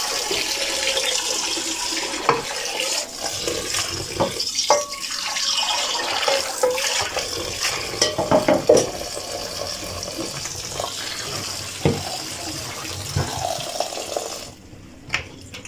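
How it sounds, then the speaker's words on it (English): Cold tap water runs over cooked spaghetti in a kitchen sink, a continuous loud splashing rush with a few clatters and knocks, steady for the whole stretch. "So we'll just decant our water and run over cold water to it to make sure to stop the cooking process."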